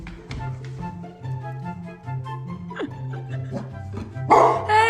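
A dog at home barks in a string of sharp, repeated barks and yips, close and fairly loud, ending with a brief bright clatter.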